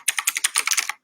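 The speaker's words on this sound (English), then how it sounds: "I'm going to type that in." Fingers type quickly on a computer keyboard, about a dozen crisp, close key clicks in a brisk burst that then stops.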